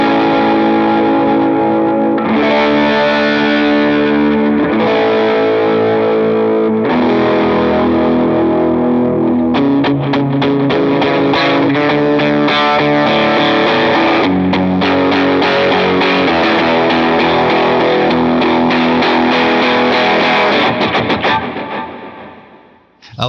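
Distorted electric guitar chords ring out through reverb and delay with the guitar volume rolled back, thick and sustained with shimmering repeats, played alone before fading out at the end.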